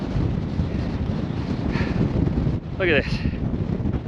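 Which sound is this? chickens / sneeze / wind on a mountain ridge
wind on a mountain ridge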